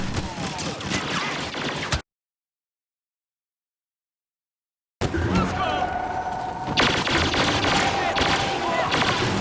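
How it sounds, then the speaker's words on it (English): Rapid-fire shots from an EE4 blaster in Star Wars Battlefront come as dense bursts of sharp reports. A few seconds of silence break the firing, then another barrage starts that grows louder and faster near the end. "Very obvious rapid fire on that EE4, even in this just 2-3 second clip."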